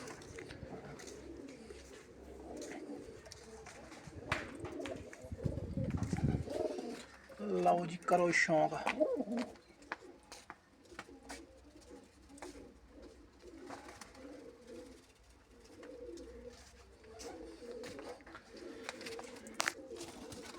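Pigeons coo in a loft with nesting pairs and young birds, soft repeated coos throughout, rising in a louder burst midway, while someone talks over them at times.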